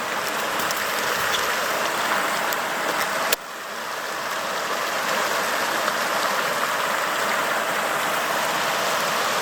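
Mountain stream in the northern Wind River Range flowing steadily near a waterfall, a constant broadband rush of water that stays loud and unbroken throughout, with a brief click partway through.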